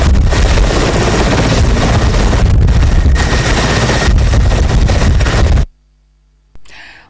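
A helicopter lifts off for the return flight to Brazzaville. Its rotor and engine make a loud, steady, close roar with rhythmic beating. The roar cuts off abruptly near the end, followed by a short burst of noise.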